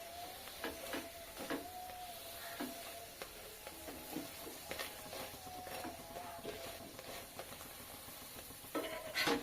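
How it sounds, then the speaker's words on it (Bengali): Paratha frying in a pan, a soft continuous sizzle with occasional light scrapes and taps as it is turned, quiet and close. "এভাবে করে ঘুরিয়ে ঘুরিয়ে ভেজে নেব।"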